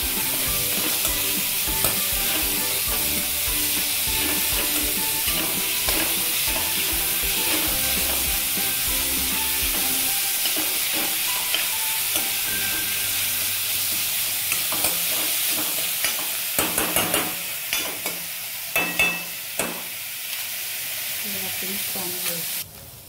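Chopped vegetables for manchow soup are stir-fried over a high flame, with a loud, steady sizzle and repeated scraping and tossing, then a run of sharper spatula knocks against the pan near the end.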